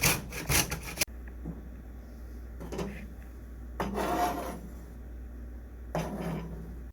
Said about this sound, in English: You can grate or chop your ginger. I did a little of both.